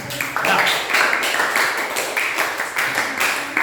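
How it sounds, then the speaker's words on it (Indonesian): A school class gives group 2 a round of applause, a loud rhythmic clapping in unison with regular pulses throughout, close and filling the room. "beri tepuk tangan kepada kelompok 2"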